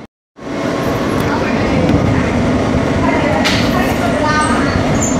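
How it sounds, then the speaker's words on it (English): Steady, loud rumble of an NYC Subway R160 F train running on the tracks toward Coney Island–Stillwell Avenue on the local line, continuous from a sudden start with faint squeals and rattles over it. "This is a Coney Island, Stillwell Avenue-bound F train via the D local line."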